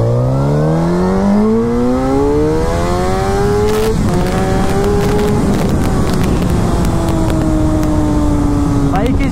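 A Suzuki GSX-R 1000 superbike pulls hard from a launch, its engine note climbing steadily through the gears with a brief shift around the midpoint, loud and close, with a voice talking over it.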